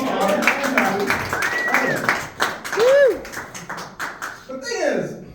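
Scattered audience clapping at a stand-up comedy show, mixed with a lively crowd and voices throughout, loud and close with uneven bursts rather than a steady ovation.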